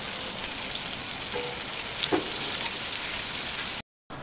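Sausage sweating slowly over low heat in a pan on a Landmann Triton 3 gas grill, giving a steady, even sizzle with a faint crackle and a brief gap near the end, no voices.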